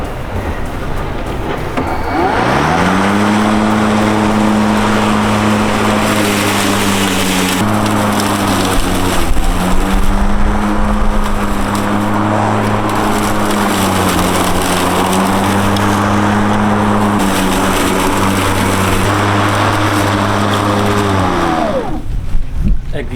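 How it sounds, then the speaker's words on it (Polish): A cordless lawn mower motor whirs at a steady pitch, dipping slightly under load at times while cutting tall grass, close by with a constant rustling hiss. "sprawdzimy to, jak kosiarka sobie poradzi z taką trawą"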